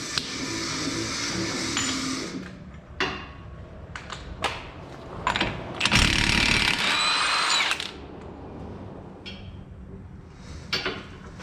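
Bursts of a power tool spinning off the 32 mm CV axle nut on a Mazda 3, loud whirring pulses with ratcheting clatter between them and one longer, louder run in the middle.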